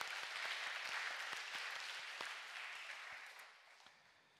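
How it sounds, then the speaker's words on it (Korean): A church congregation gives dense applause during a young adults' worship service, a steady wash of clapping that fades toward the end, fairly distant and soft. "우리 격려의 박수 한번 보내주시면 좋을 것 같아요"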